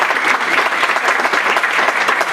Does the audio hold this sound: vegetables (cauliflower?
no